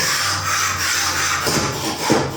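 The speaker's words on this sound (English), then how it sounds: "the first thing I do is I take my paint scraper and scrape on it." A paint scraper drags steadily across a wooden drawer front, giving a continuous close rasping scrape with slight changes in stroke.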